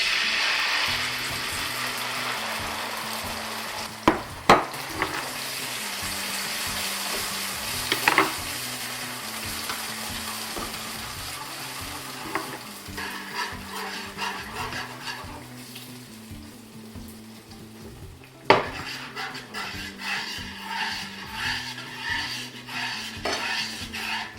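Tomato sauce sizzles in a pan over browned garlic for a tuna pasta, with a spoon stirring and occasionally knocking the pan, close and steady, the sizzle gradually settling lower.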